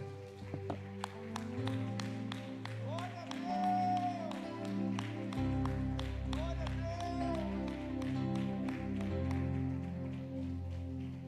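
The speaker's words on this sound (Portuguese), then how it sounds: "Vamos aplaudir Jesus." A church congregation claps in a steady, quick rhythm during a faith and miracles worship service, the crisp repeated claps running over sustained keyboard music throughout.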